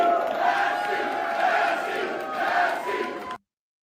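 A rally crowd roars and chants in loud, sustained waves with rhythmic swells, heard through a played-back recording that cuts off abruptly near the end.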